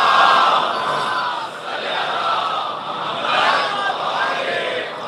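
An audience at a majlis recites salawat in unison, a loud crowd of voices chanting together in swelling waves, filling a large hall.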